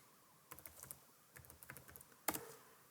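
Computer keyboard keys tapped at a desk while entering commands, a few quick bursts of clicks separated by short pauses, close and fairly quiet with no voices.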